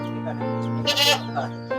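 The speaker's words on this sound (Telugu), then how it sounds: "ఇది మేకనే కదా పోతా మేక పోతా" A male goat bleats close by with a wavering, nasal cry about a second long, followed by a softer, shorter call, with faint background noise and no speech.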